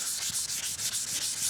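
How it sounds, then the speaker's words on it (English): Sandpaper rubbing back and forth over scratched black gelcoat on a Mastercraft ski boat, a loud close rhythmic rasp of about eight quick even strokes with no voices. "keep sanding until they're gone"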